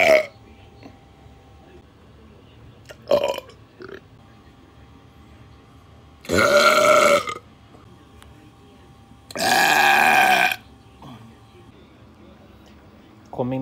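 A man lets out two long, loud, close burps after drinking Coca-Cola, separated by a few seconds of quieter background noise.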